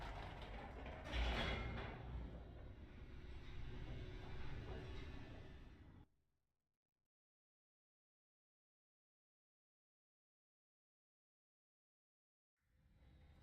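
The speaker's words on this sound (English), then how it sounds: "The elevator raced downward, plummeting towards an unknown fate." An elevator in The Stanley Parable descends with a steady mechanical rumble and creaking, a louder clank near the start, then stops abruptly into several seconds of silence before machinery noise returns at the end.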